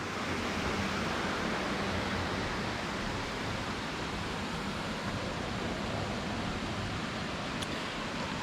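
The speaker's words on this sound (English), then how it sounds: "Not only is it like a permanent rain sound outside your window all day, every day" The Winooski river's water rushes steadily through a culvert in a constant broadband roar, even and unbroken like heavy rain, with no voices.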